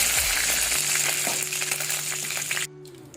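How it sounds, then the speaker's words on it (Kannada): Curry leaves and mustard seeds fry in hot oil for a brinjal palya tempering, giving a loud, steady close sizzle with stirring scrapes that cuts off abruptly near the end. "ಫ್ರೈ ಆದ ನಂತರ ಒಗ್ಗರಣೆ ಸೊಪ್ಪು,"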